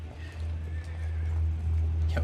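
A horse whinnies and hooves clip-clop in a period TV drama, steady and fairly close over a low constant rumble, with a brief sharper cry near the end.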